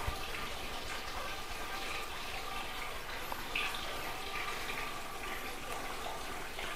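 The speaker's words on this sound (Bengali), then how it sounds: "আমি এখানে একটু জল দিয়ে দিচ্ছি।" Water poured gently from a small can into a little bonsai pot of streblus asper, a soft continuous trickle and splash, quiet and close, with no talk.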